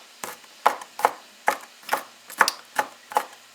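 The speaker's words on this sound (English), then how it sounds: "Then I have here about 1 head of garlic. I'm going to just chop this up and put that in with my onions." A knife chops through a head of garlic on a cutting board, about eight sharp, evenly spaced taps sounding close and clear with no talking.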